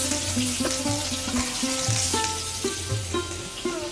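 Barracuda fish frying in a pan, cooked until deep red, give a steady close sizzle. Tonal music runs over it, with scraping and stirring now and then.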